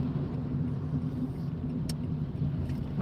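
A car drives along a road at night in the UK, a steady low engine and tyre rumble holding evenly throughout with no voices.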